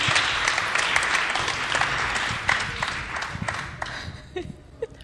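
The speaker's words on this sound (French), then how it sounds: "On l'applaudit quand même." A small audience gives a warm round of applause during a conversational stage event. Lively clapping holds for several seconds, then thins into scattered claps and quiet voices toward the end.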